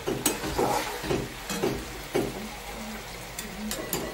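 Mutton sizzles in a pan as it is stir-fried for a thin homestyle curry, giving a continuous crackling fry with repeated scraping strokes of a spoon at a steady rhythm. The sound is close and no one speaks.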